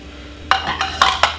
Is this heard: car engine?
no